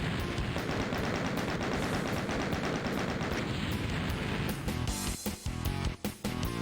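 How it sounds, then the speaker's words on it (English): Dense, rapid gunfire from the 1993 video game Doom, a relentless stream of loud shots and blasts that continues throughout, thinning out into separate bangs toward the end. "I love the gun noise"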